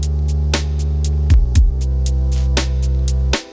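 Heavily detuned synthesizer sub bass from five unison voices, a loud low throbbing drone that wobbles as the voices beat against each other, with a brief pitch dip and bright percussive ticks over it.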